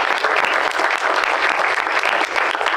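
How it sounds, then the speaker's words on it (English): Steady, dense audience applause fills the room at a pizza event with a pro basketball guest, loud and sustained clapping from a sizable crowd throughout. "let's give a round of applause"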